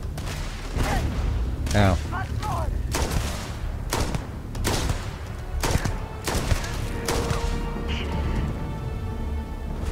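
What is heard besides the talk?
gunfire in the video game Starfield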